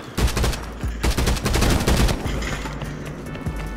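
Sustained automatic gunfire in Warzone played in VR rattles loudly in dense bursts, thinning into scattered shots toward the end, with no talk over it.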